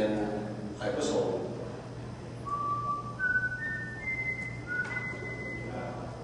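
A few short whistled notes from a person, thin and tonal, stepping upward in pitch over low background noise and a steady hum.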